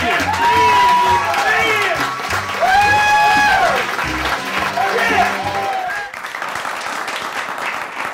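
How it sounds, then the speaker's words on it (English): A studio audience on a live fitness TV show gives a loud, sustained round of applause mixed with whoops and cheers, easing to a softer patter near the end. "A round of applause for Mr. Peter Lupus."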